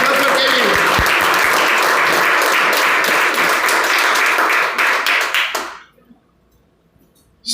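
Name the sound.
congregation applause in church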